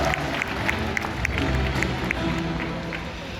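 Crowd applause at an outdoor birds-of-prey show in Singapore's Mandai Bird Paradise: a dense, even patter of many hands clapping, moderately distant, with no talk over it.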